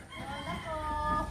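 A chicken's brief crowing call sounds over low background noise, moderately close.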